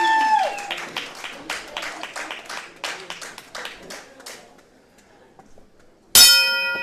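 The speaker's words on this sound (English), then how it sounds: "the opening bell has sounded" Clapping and applause fill the wrestling arena and then fade. One loud, ringing clang of the opening bell sounds near the end and keeps resonating.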